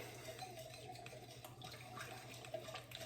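Cold water runs steadily from a kitchen tap during sourdough bagel making, a constant close hiss and splash without pause.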